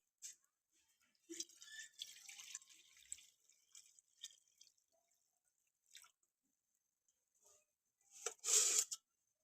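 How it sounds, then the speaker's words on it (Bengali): Water is poured into a pot for boiling chickpeas, with faint splashes and dripping that swell into a brief louder gush of pouring near the end, amid quiet kitchen handling. "সেদ্ধ করার জন্য আমি দিয়ে দেবো প্রথমে জল"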